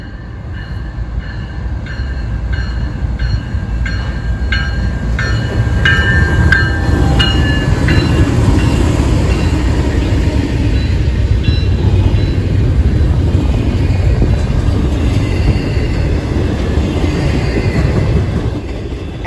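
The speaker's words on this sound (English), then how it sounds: "we then see a westbound intermodal train on the BNSF Chillicothe subdivision" A long westbound intermodal freight train on the BNSF Chillicothe subdivision rumbles steadily past up close, with a heavy low roar, rhythmic clicking of wheels over rail joints, and faint metallic squeals.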